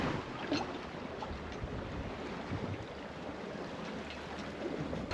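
Steady wind roars across the microphone on an open boat heading into central Stockholm, with a broad constant rush and water noise beneath, no voices.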